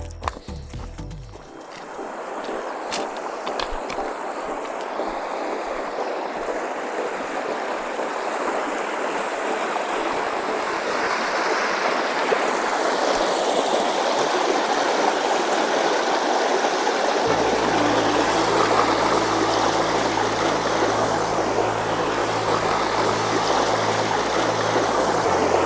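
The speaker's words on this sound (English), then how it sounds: "So yeah, here we are again, getting close to the river." A river at Garner State Park in Concan, Texas, rushes in a steady broadband wash that grows slightly louder as it nears, continuous and without voices, with a low hum entering toward the end.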